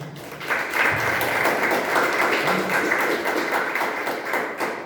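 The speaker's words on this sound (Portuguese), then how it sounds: "Vamos aplaudir o Senhor" A church congregation applauds the Lord during a Portuguese-language service, with dense, sustained clapping from many hands filling the room at an even, fairly loud level.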